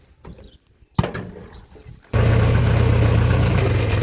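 A tractor engine starts up after a few faint knocks and a thud, then settles into a steady, loud, low idle that runs on to the end.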